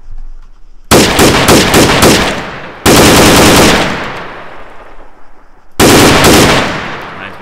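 In the Arma 3 video game, an M16/M4 rifle fires three loud, close bursts: a rapid automatic string followed by two long sustained volleys, each cut off sharply and leaving a decaying echo.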